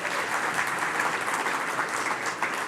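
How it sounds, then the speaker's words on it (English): Audience applause at an awards ceremony for research and innovation, a steady, dense wash of many hands clapping that holds at an even level for the whole stretch, with no voices over it. "Let's give him a round of applause"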